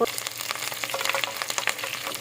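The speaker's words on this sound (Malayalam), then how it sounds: "സവോളയുടെ ഒരു കളറൊന്നും മാറേണ്ട ആവശ്യമില്ല കേട്ടോ അല്പം ഒന്ന് വഴന്നു വന്നാൽ മാത്രം മതി" Onions sautéing in oil for ghee rice give a close, continuous sizzle with brief crackles and the occasional stirring scrape.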